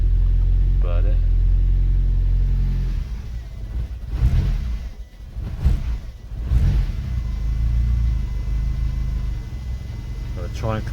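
A Fiat Cinquecento's 899cc engine, close by, holds a steady revving drone, then the throttle eases off into uneven dips and surges before settling back to a steady hum. Voices may be present under the engine.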